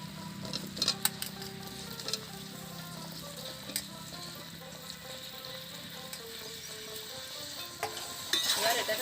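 Fried jackfruit and potato cooking in a spice paste, with a soft sizzle under scattered scraping and clinking stirs of a utensil against the pan, fairly quiet and close.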